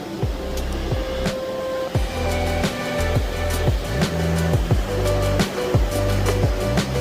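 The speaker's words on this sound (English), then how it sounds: "This is the reason why I come here and I listen to the water." Flowing water outdoors, a continuous rushing wash with irregular splashes and bubbling surges, steady and fairly close, with no voices.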